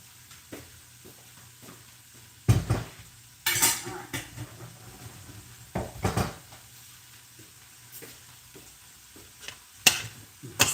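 Spoon stirring flour into potato and ham soup in a metal pot, with intermittent scraping clinks against the pot sides over a low background hum, close and fairly quiet, no talking.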